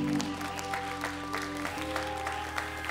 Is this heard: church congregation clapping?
yes